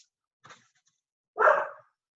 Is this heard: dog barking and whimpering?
yes